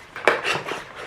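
A Spode ceramic heart-shaped dish is handled close by, giving a few short clinks and knocks of the ceramic, the sharpest about a quarter second in, with no talking.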